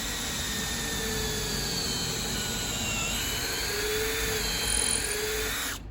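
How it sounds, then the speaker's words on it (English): A power drill whines steadily as it bores holes into a log, a continuous high-pitched motor drone that cuts off abruptly at the end. "Yeah, you drill your row."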